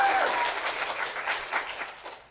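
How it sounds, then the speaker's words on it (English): A conference audience applauds with steady, dense clapping that fades out toward the end. "And then a great round of applause."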